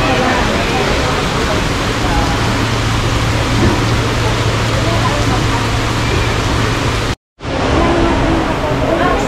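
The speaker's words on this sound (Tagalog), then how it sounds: "Ulan." Heavy rain pours down steadily in a dense, continuous wash of noise near Mt. Faber in Singapore during a thunderstorm, with a brief dropout near the end.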